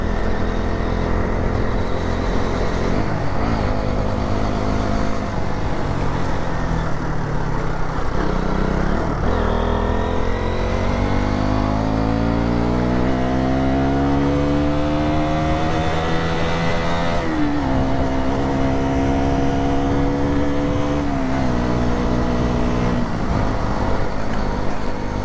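Motorbike ridden on a bumpy hill road up Devarayanadurga hills: a steady engine drone with rising and falling pitch as the rider slows and speeds up, close and continuous throughout.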